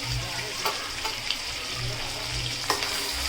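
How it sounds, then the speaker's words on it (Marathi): Onion, ginger-garlic and thickly chopped tomato frying together in a pan for a Konkan-style wet cashew curry, a steady close sizzle with a few stirring scrapes and knocks. "कांदा आणि आलं लसूण आपलं थोडंफार फ्राय करून झालेलं आहे त्यामध्ये आपण हा उभाटा चिरलेला जाडसर टोमॅटो आहे तो सुद्धा मिक्स करून घेणार आहोत"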